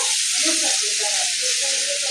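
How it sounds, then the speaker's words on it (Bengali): Potatoes frying in hot oil give a steady, dense sizzle throughout, close and fairly loud, with faint background voices under it. "এই যে আলু ভাজা চলছে"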